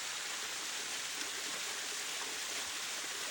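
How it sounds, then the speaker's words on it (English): A long, thin waterfall pours down a mountainside beside a fjord-side road, a steady, dense rushing hiss that fills the scene without breaks and no voices. "We've got this long little waterfall down here to the road."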